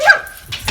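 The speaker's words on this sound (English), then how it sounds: "those are big dogs" Dog at an animal shelter giving a short, close, high yelping bark followed by a brief whimpering yip, all within under a second.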